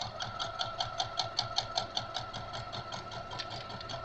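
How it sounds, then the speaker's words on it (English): A sewing machine stitches rag quilt squares down the middle with a steady, rapid mechanical chatter, pulsing in an even rhythm at close range and running continuously with no voices. "do a little stitching right on down the middle"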